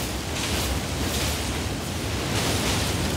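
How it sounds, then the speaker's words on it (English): Fire magic spell cast in Elden Ring, a steady roaring, crackling rush of flame that holds loud and continuous throughout without pause. "Oh, here's my fire magic."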